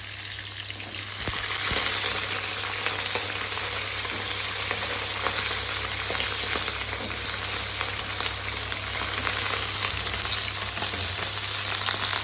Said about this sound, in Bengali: দিয়ে দিচ্ছি কেটে রাখা আলু।